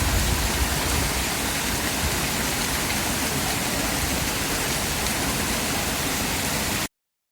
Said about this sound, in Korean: 빌라데스대의 100개의 분수로입니다. 시원한 물소리와 함께 다양한 노즐에서 뿜어져 나오는 분수 형태가